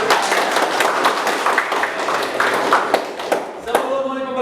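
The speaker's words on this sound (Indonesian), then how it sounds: "tepuk tangan dulu buat kita" Children in a classroom clap their hands together, a dense, lively patter of close and loud applause that runs throughout, with young voices mixed in.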